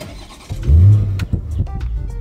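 A BMW Z4 M40i convertible engine, set to Sport Plus mode, fires up with a sharp, loud roar that swells and then settles into a rumbling idle.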